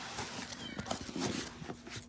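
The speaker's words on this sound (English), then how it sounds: "And I got cats in the background." Cats meow faintly in the background of a short, quiet stretch of indoor noise, with a few soft thumps and no clear voices.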